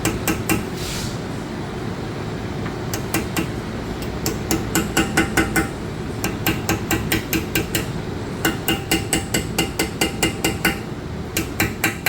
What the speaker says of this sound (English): you're gonna have to hammer them to get them in.